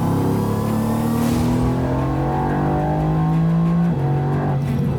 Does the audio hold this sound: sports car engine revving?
yes